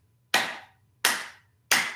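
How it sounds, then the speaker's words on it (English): Three sharp hand claps, evenly spaced about two-thirds of a second apart, close and clear against a quiet room with a low hum, performed by a shiatsu practitioner to close a distance healing session. "quite often what I'll do is I'll just clap 3 times"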